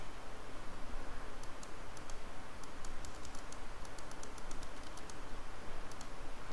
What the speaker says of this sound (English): all the clicks you're hearing is my mouse and the left and right bracket keys